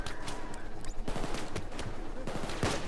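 Brothers Grimm akimbo pistols firing in the heist game Payday 2, a steady stream of rapid shots with sharper cracks toward the end, mixed into dense game noise.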